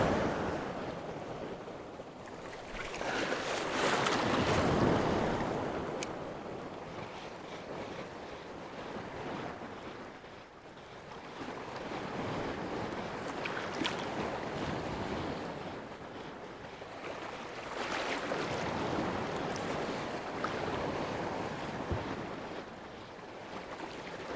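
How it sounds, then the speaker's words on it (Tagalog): Ocean waves at sea heard from a small fishing boat off Occidental Mindoro, a broad roaring wash of surf that swells and recedes in long surges, with gusty wind buffeting the microphone. "Alon."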